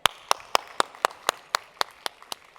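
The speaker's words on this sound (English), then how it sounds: "Please can we give a very warm, loud applause" Steady, evenly spaced hand claps from a conference audience welcoming a speaker, about a dozen crisp claps at a regular rhythm, moderately close and fairly quiet.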